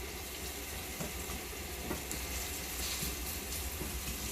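Meatballs sizzle in a hot pan while they are shaken and sautéed. A steady, even frying hiss runs throughout at moderate level, with faint bumps as the pan moves.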